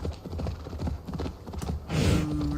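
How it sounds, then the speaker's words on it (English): Donkey hooves clip-clop in a quick uneven rhythm close by, with a brief bray or whinny-like cry near the end. "Donkey."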